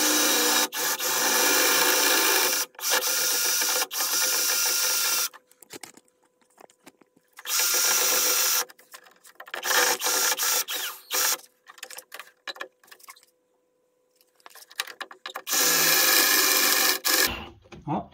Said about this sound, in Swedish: Då är vi redo för att borra lite grann då.